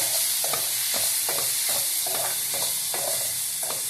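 Steady sizzling of food frying in a pan, with a utensil scraping and stirring in a regular rhythm, close and continuous.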